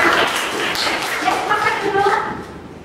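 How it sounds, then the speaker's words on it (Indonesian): A university class claps for a student's answer during a speaking-skills lecture, producing a short, close round of applause mixed with voices. "Oke, tepuk tangan."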